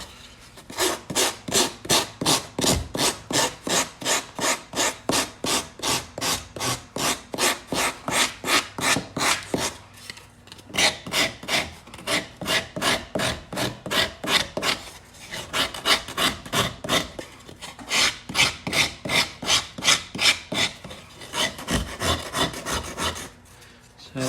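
Yellow foam is shaped with a 4-in-1 rasp in steady, rapid back-and-forth strokes, close and loud. The rhythmic scraping runs continuously with only brief pauses between runs.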